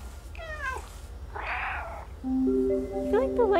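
A cat meows in the video game Stray: a clear meow at the start, a brief breathy rush in the middle, then sustained game tones with more quick meows near the end.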